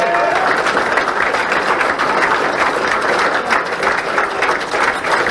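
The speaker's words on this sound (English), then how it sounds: "Big round of applause for our finance chair, Jeff Williams." Loud, sustained applause from a crowd at an election night event, dense continuous clapping filling the whole stretch at a steady level, with no one speaking over it.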